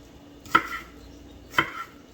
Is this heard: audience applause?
no